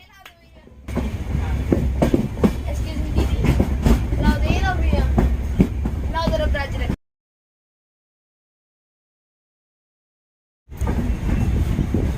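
The Rajdhani Express pulls into Roorkee station with a loud, close rumble and rattle under voices. The sound cuts to silence for several seconds, then the rumble resumes.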